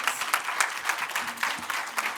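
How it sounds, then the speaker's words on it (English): An audience applauds the teams at a public sector debate competition grand finale, a full, steady round of clapping from many hands with a few louder individual claps standing out near the front. "Let's give them a round of applause."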